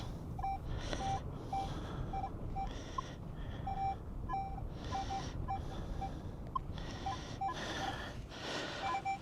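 Repeated short electronic beeps from a Manticore metal detector chirp in irregular bursts over a breathy, rushing background noise.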